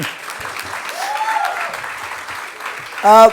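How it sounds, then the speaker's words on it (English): College students applaud during a guest speaker's talk. The soft, scattered clapping sounds somewhat distant and lasts about three seconds, and a voice breaks in briefly at the end. "You need to clap to that, guys."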